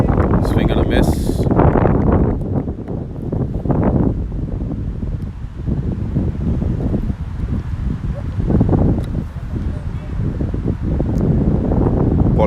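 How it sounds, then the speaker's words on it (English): Strong gusts buffet the microphone at an outdoor cricket match, producing loud, uneven low-pitched roaring and rumbling that rises and falls in waves throughout. "it's very windy and we have stands toppling"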